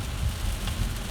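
Steady rain drums on a car during a drive home, a dense, even wash of hiss with low road rumble underneath, continuous and fairly close with no voices.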